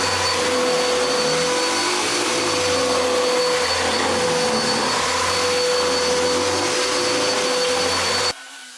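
A vacuum cleaner runs loudly and steadily close by, a constant whining drone that cuts off abruptly near the end.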